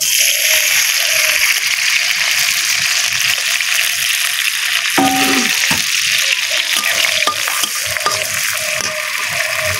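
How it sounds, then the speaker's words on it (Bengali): Chili, onion and garlic fry in hot oil with a continuous close sizzle and crackle, with light stirring clatter in the middle and no talk. "ঝাল পেঁয়াজ রসুন ভেজে নেব।"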